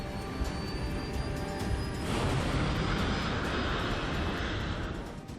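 Air Florida Flight 90 airliner taking off, a continuous loud roaring jet engine rumble that swells and grows broader partway through as the plane accelerates, steady and unbroken.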